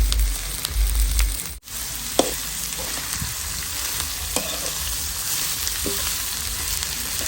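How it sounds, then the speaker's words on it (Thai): Shallots stir-frying in a hot pan, with a steady broadband sizzle running throughout and a few scraping stir strokes, close and fairly loud with no talking. "นี่เราก็ผัดลงไปก่อนนะคะ ให้มันยุบก่อนนะคะ"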